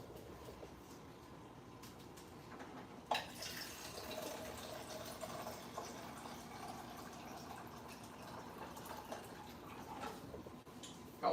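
Faint, steady rush of water running from a tap into a container, starting with a small clunk and continuing evenly at a distance.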